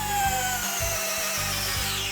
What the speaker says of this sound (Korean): 4에 30mm 피스를 WX252로 한번 나사를 박아보도록 하겠습니다